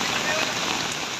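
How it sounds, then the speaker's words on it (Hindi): Torrential rain pours steadily in hilly country during flooding, a dense, loud, continuous hiss filling the whole moment. "एक ओर मूसलाधार बारिश हो रही थी"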